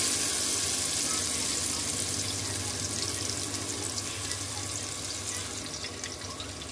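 Sliced onions and green chilies frying in hot oil for keema aloo matar, a dense continuous sizzle that fades slightly over time, close and steady with no talk.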